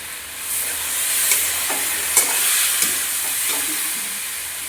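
Jackfruit curry sautéed and stirred in a pan after sugar goes in, with a loud, steady, close sizzling hiss and a few spoon scrapes in between.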